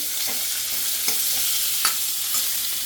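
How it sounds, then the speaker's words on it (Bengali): Onions frying in a pan for a Bengali chicken bhapa, a steady close sizzle with a few brief stirring clicks and scrapes, no voices. "এবার আমি পেঁয়াজটা ভেজে নেব"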